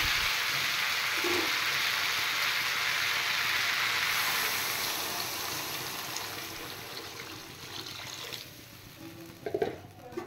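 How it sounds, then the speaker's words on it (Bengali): Water poured into a pan of sautéed vegetables and spices for a fish curry with drumsticks, a steady loud hissing rush that gradually fades over several seconds, with a few faint clinks near the end. "এবার আমি জল দিয়ে দেব"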